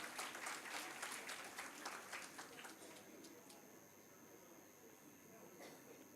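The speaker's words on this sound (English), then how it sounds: "Please give a round of applause for the speakers of our plenary." Applause from a conference audience after the plenary speakers are introduced at an English-language teaching conference, steady dense clapping that tapers off gradually, fairly faint and distant.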